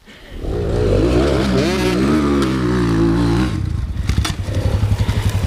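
An enduro motorcycle on a sand hill holds a loud, sustained high rev up close. It then drops to a rough, pulsing, clattery idle with a few sharp throttle blips.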